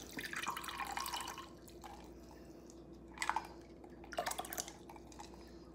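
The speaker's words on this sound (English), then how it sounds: "I've got me some ice water here. And I'm going to measure out 1/3 cup." Ice water poured into a measuring cup for a sweet potato pie, soft trickling and a few clinks of ice in bursts, quiet and close.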